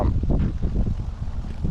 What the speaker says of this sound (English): Again, it's windy.